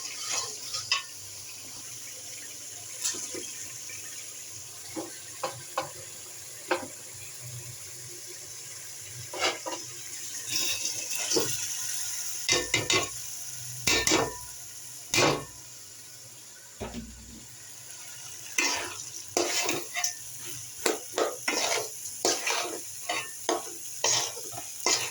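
Food stirred in a hot frying pan: a continuous sizzle runs throughout while a utensil scrapes and knocks against the pan in repeated, irregular strokes, close and fairly loud, with no talking.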